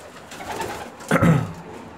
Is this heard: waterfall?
no